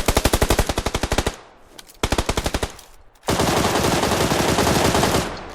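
Automatic gunfire in the PUBG Lite video game: two loud rapid bursts of evenly spaced shots, then a longer sustained roar of fire after a short gap.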